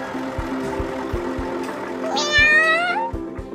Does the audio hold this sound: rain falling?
no